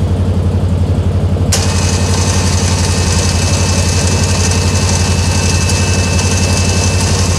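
A CFMOTO ATV engine runs loud and steady at raised revs to power its winch, with a constant close rumble and a brief clicking shift early on before settling into a uniform drone.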